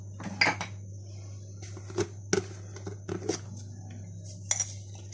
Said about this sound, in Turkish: içine koydum karıştıracağım hepsine ne varsa